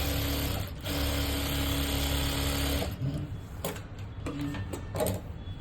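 A sewing machine stitches a boat-neck blouse, running in one long, even whirring burst up close, then stopping and restarting in several short stitching spurts, with no talking.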